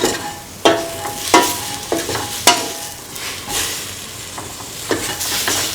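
Tomato pieces being stirred into a soya chunk, carrot and coconut milk stew, with a spoon scraping the pan in repeated strokes roughly every second over a continuous soft simmering sizzle.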